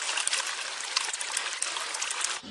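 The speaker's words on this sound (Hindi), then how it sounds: "वे खालिस दूध में पानी मिलाकर उसे 4 बाल्टी कर देता है।" Cartoon sound of water being poured into a bucket of milk, a steady splashing trickle lasting a couple of seconds before cutting off, alone with no voices.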